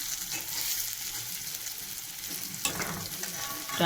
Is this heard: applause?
no